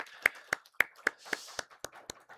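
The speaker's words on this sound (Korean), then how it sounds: "박수 한번 하도록 하겠습니다." A church congregation at a Sunday morning service claps in a brief round, nine or ten sharp, evenly spaced claps at a moderate distance, with no voices over them.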